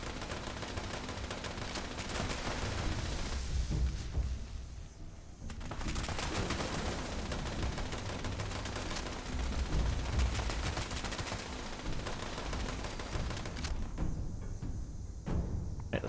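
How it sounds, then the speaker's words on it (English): Steady gunfire in Fallout 76 while shooting at Mothman, dense shots running continuously through the whole stretch with a brief lull partway, loud and close with no talk over it. "Just kind of shoot at them so you get credit."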